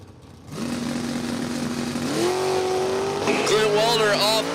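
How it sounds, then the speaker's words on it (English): A drag racing car with a 4-speed manual launches down the strip at a dragway, its engine roaring louder as it climbs through the gear changes while an announcer talks over it. "Here comes Steve Smith. Kicking that 4-speed around."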